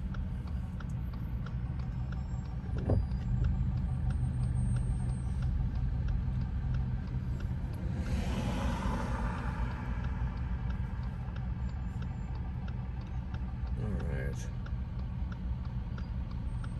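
Road traffic in a snowy mountain town, Big Bear Lake, California, with a steady rumble of cars and heavier vehicles passing nearby and a louder whoosh of one vehicle going by mid-clip.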